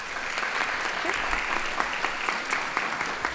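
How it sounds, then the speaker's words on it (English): Audience applause in a high school auditorium at a teen awards ceremony, dense and sustained clapping from a sizable crowd, fairly loud and even throughout. "Please give yourselves a round of applause."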